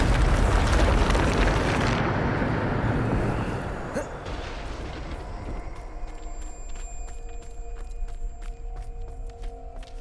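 A Bombarda spell explodes in the video game Hogwarts Legacy: a loud, roaring blast for about two seconds, then a rumbling decay that leaves scattered small crackles and clicks.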